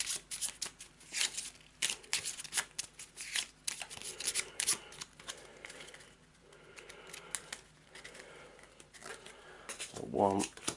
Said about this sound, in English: let's give the green deck a shuffle